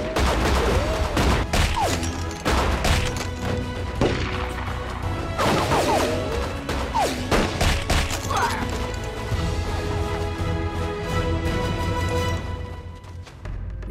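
Sustained bursts of gunfire and crashing impacts fill a kung fu movie battle scene, loud and dense throughout, with shouting voices breaking in between the volleys.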